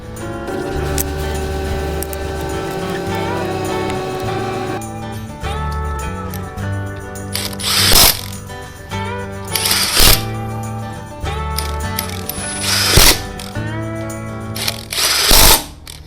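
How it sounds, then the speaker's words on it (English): Impact wrench tightening bolts while assembling a 220MS tow-type topdressing machine, several short loud rattling bursts standing out over a steady droning mechanical hum. "If you're tightening these with an impact, make sure that you go pretty tight with the impact."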